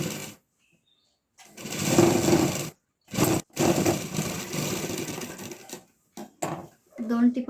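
A sewing machine stitching a cloth box bag, short whirring runs of stitching separated by pauses, close up, with a person talking at the same time.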